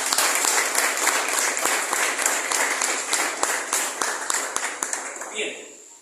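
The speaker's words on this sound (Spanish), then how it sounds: "Denle un fuerte aplauso al Señor." Loud congregational applause at a church service, with individual claps standing out in a dense, even rhythm before tapering off at the end.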